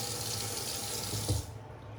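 Tap water runs steadily into a sink before a shave, a close, even rushing stream that cuts off near the end as the faucet is shut.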